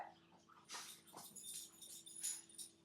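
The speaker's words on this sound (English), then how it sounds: "this offends Alice, so she must bark" A dog barks at people passing through the neighborhood, a few sharp barks and whines coming and going at moderate distance, faint against a quiet room.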